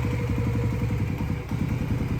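A Suzuki Burgman 650 scooter engine idles while warming up, giving a steady, rapid low thumping pulse that is close and fairly loud, with no talking.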